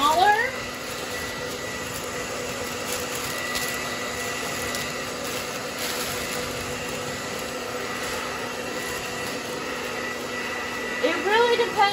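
A hair dryer heat-shrinking plastic wrap around a basket blows with a steady whirring hum throughout, a constant mechanical drone with no clear speech.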